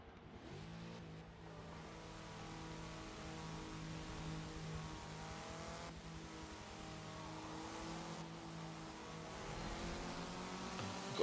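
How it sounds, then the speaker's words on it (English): A 1984 Volkswagen Rabbit hot hatch races around Hockenheimring in Forza Motorsport 7, its engine droning steadily and rising in pitch with brief dips at gear shifts, loud and continuous with no talk. "Got a Volkswagen Rabbit at Hockenheimring."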